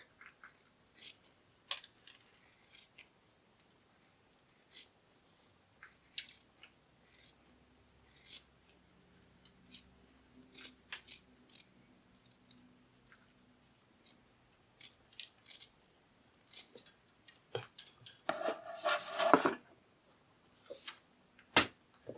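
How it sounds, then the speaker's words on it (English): Scissors snip through excess fabric while sewing a shoulder dragon plush, giving close, sharp, irregular cuts spread across the span with quiet pauses and a denser burst of snipping near the end. "Now I'm going to cut off the excess here."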